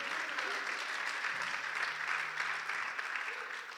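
A church congregation applauds during a sermon, a sustained, even burst of clapping at moderate level with faint voices mixed underneath, tapering slightly at the end.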